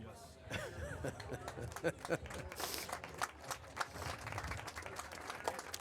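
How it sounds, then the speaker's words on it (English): Spectators applaud as an injured player is carried off the field at an under-19 women's rugby match, with scattered clapping mixed into crowd murmur and nearby talk, fairly faint and uneven. "Good round of applause for that young lady."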